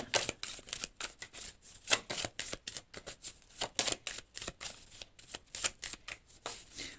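Tarot cards being shuffled by hand in a rapid run of crisp, papery riffles and flicks, close and fairly quiet, with no talking over them.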